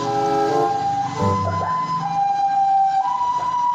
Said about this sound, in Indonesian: lihat teman-teman, ada mobil ambulan teman-teman.